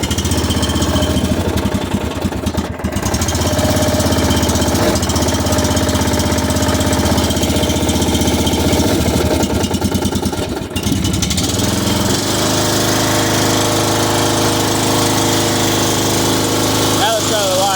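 Riding lawn mower engine idling steadily and close up, a continuous loud rumbling drone that holds nearly constant throughout, with a couple of brief clunks and a slight drop in pitch late on.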